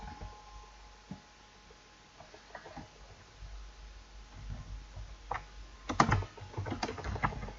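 Keys tapped on a computer keyboard while entering numbers into C++ code, sparse faint clicks at first that grow into a quicker, louder cluster of keystrokes toward the end.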